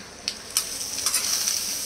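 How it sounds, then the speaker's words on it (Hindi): Hot oil hisses and sizzles steadily, with a few sharper crackling bursts as spices hit the pan for a tadka (tempering), close and fairly quiet. "ये तड़का लग गया"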